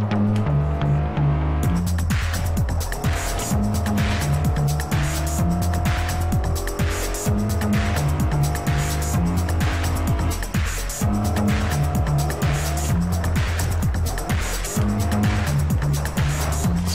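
A car races in Forza Horizon with its rear end sliding, the engine revving hard and loud while the tires squeal through repeated skids, and no one talks.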